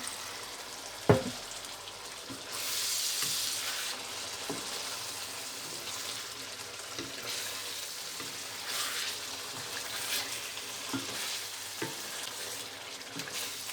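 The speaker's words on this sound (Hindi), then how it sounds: "अभी मैं इनको 1 मिनट भूनूंगी" Mutton gola kabab frying in a pan gives a steady close sizzle with soft stirring scrapes and a few clinks, building into a louder hiss partway through.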